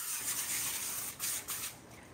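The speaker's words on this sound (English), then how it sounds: "We don't need to, but we can spray it. With the spray? Olive oil spray." A steady hiss of olive oil spray onto a baking tin, with a couple of brief louder bursts near the end, close by.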